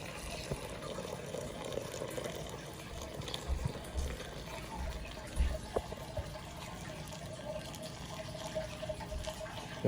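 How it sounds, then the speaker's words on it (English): Homemade maple syrup at about 190 degrees is poured through a filter, making a continuous low liquid pouring and gurgling with occasional splashes, close and steady throughout. "Now we're pouring the maple syrup through a filter."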